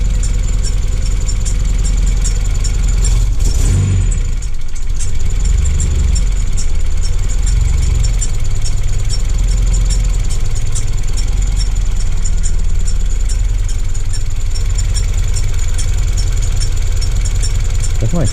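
A car engine idles steadily with a suspected faulty tensioner, giving a low rumble and a faint continuous ticking whine. A brief dip and shuffle come partway through, then the even idle resumes, close and loud.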